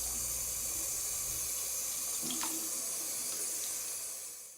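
Tap water runs in a steady, close stream while hair dye is rinsed out of hair, a continuous splashing rush that holds evenly and fades slightly at the end.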